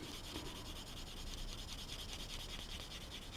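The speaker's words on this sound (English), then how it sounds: "So we can now come back in with the blue sanding sponge." A blue fine-grit sanding sponge rubs steadily over a plastic part of a Tamiya 1/12 Yamaha YZR-M1 motorcycle model kit, giving a continuous close, soft scratchy abrasion with no pauses.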